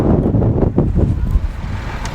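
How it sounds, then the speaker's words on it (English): Strong wind buffets a microphone outdoors on a high spot while a Mini Cooper's tyres are inspected, a loud continuous rumbling roar with gusty swells throughout. "Excuse the wind, it's quite windy up here today."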